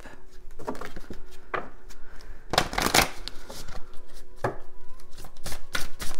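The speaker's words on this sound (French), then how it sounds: "je vais brasser un petit peu le jeu" A deck of playing cards being shuffled by hand, with several crisp riffling bursts and softer card-handling rustles between them, close and clear with no talking.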